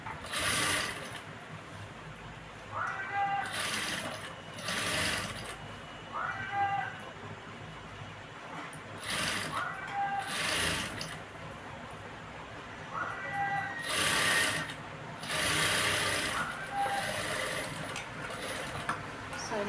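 A sewing machine stitching a work blouse runs in short bursts of rapid mechanical whirring, starting and stopping repeatedly, with someone talking between and over the runs.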